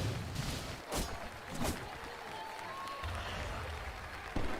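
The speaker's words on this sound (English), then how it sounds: "the crowd goes wild" Esports crowd at a Dota 2 International match cheering and applauding in a large arena, a broad roar with clapping bursts, heard through a caster's live broadcast.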